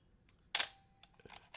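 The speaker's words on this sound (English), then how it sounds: "as you're tripping the shutter and taking pictures with this camera" The shutter of a Minolta SR-T 102 35mm SLR film camera fires once with a crisp, well-damped mechanical clack, close and alone, surrounded by a few faint handling clicks.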